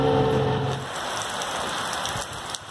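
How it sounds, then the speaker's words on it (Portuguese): Rain arriving on a rural property where grass is being cut, a steady hiss of falling drops that follows a brief low hum at the start, with a faint tap near the end. "Só pra avisar vocês, a chuva veio."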